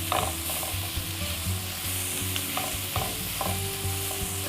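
Onions cooking slowly over medium-low heat in a pan for caramelizing, with a steady close sizzle broken by repeated scraping and stirring strokes and no talking.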